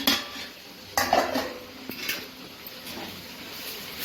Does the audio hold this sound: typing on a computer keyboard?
no